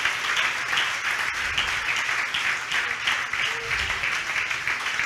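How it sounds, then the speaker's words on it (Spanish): Church congregation clapping in a sustained, rhythmic wash of applause, fairly full and close, with a few faint voices mixed underneath. "Fuerte ese aplauso al Señor si quiere hacerlo."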